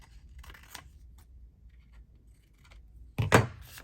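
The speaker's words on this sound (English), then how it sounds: "need to do some trimming here" Scissors trimming paper for a journal page, a few faint snips followed by one louder, close crisp cut near the end, with no voices.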